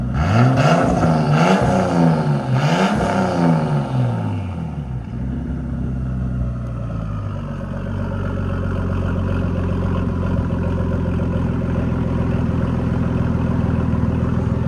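A 1999 Nissan Skyline R34 with a 2.6L twin-turbo engine and straight-pipe exhaust revs sharply a few times up close, then settles into a loud, steady, rumbling idle that continues to the end.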